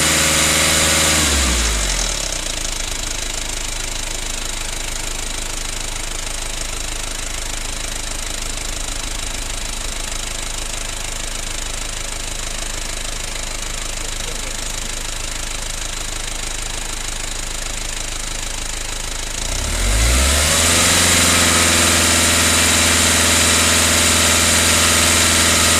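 Mazda Bongo (Ford Freda) engine running steadily during a cooling system bleed, a loud continuous drone that softens after the first couple of seconds and swells back up near the end as the throttle is worked.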